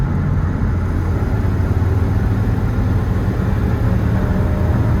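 A 1999 Ford F-150 engine drones steadily through a downshift, a continuous low rumble with no clear break, heard close inside the cab.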